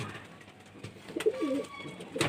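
Andhra pigeons in a loft give a brief soft cooing phrase in the middle, fairly faint and close, surrounded by light handling rustle and bumps.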